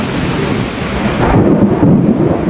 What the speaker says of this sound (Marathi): आवाज डायरेक्ट ढगांचा